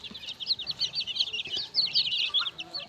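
Poultry in a household flock of hens and ducks clucks and chatters in rapid, overlapping bursts, close by and fairly busy, with no talk over it.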